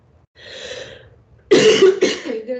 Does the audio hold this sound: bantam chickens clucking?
no